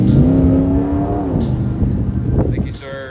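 A Ford truck with a 351 engine revs close by, a loud, throaty rumble that rises and then settles, while people talk over it.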